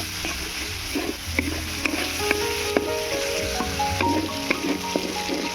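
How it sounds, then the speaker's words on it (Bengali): Garlic, ginger and onion paste frying in a pan for vegetable dal, a close continuous sizzle broken by scattered stirring clinks and scrapes, moderately loud, no talk. "রসুন বাটা, আদা বাটা, আদা রসুন পেঁয়াজটাকে আমি ভালো করে ভেজে নেব।"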